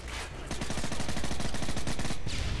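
Rapid automatic gunfire from Call of Duty Modern Warfare 3 rattles on in a steady burst for about two seconds, with a few separate shots before and after.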